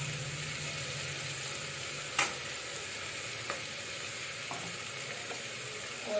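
Potatoes going into a hot frying pan with turmeric, giving a steady close sizzle of frying with a few sharp stirring clinks and scrapes scattered through it, no voices.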